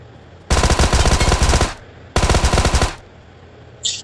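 Two long bursts of rapid automatic gunfire in the PUBG Mobile video game, loud and close, the first lasting over a second and the second slightly shorter, separated by a brief gap.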